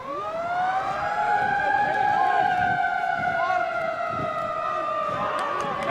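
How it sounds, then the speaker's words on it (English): A long, steady siren sounds across a rugby stadium to mark half time in an under-21 championship match between the Sharks and the Cheetahs, ringing loud and sustained under crowd noise. "the siren went for half time"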